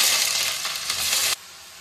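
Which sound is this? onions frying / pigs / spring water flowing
onions frying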